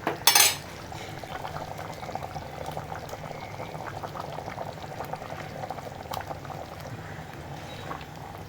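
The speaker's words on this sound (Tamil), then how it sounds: "நல்லா தேங்காய் போட்டு நல்லா ஒரு கொதிக்கட்டும்." Chicken kulambu with ground coconut paste simmers and bubbles in a pot, a soft continuous boil after a brief clatter of a utensil at the start, with no talk.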